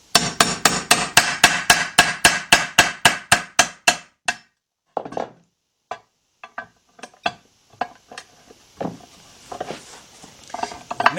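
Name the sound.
hammering socket to seat timing chain part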